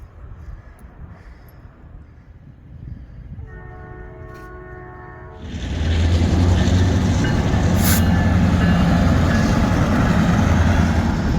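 A train horn sounds briefly, then a loud rumbling train rolls close by, its steady roar of wheels and cars continuing to the end.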